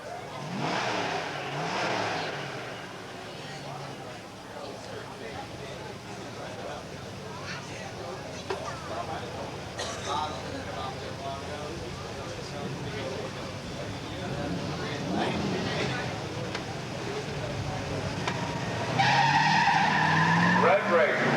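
Drag race between a 1971 Plymouth Cuda and a 1965 Pontiac GTO with a 389 and automatic, engines revving and tires squealing with a crowd and announcer talking over the racket throughout, growing louder toward the end.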